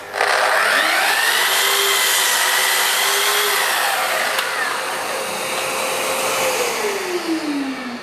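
A Festool KS 120 REB Kapex sliding compound miter saw cutting wood with dust extraction running: a loud, steady motor whine that holds, then winds down near the end.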